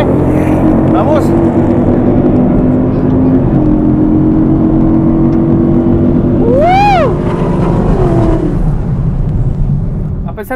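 Two 2016 muscle cars, a Camaro and a Challenger, accelerate hard off the line in a drag race, engines roaring loud and close, a rising whine sweeping past near the end, with excited talk over the top.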